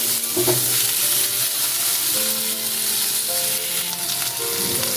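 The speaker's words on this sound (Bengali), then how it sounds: "আলুটা কিছুটা ভাজা হয়ে এলে" Small diced potatoes, washed and drained, fry in hot oil in a pan with a steady, dense sizzle that runs throughout, with a few faint tonal hums in the background and no talking.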